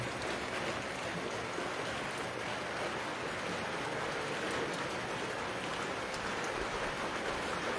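Heavy rain pours down in Fatehpur Shekhawati, a dense, unbroken hiss of falling water drumming on surfaces at a constant loud level, with no voices.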